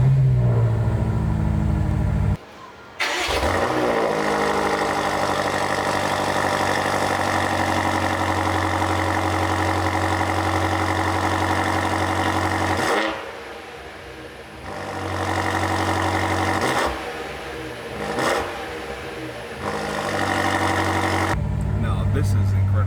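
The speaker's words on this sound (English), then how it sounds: "So we'll go ahead and start the car." A 2022 BMW M5 CS, indoors, cranks and fires with a loud bark, then settles into a deep, rumbling idle that fluctuates slightly as it runs close by.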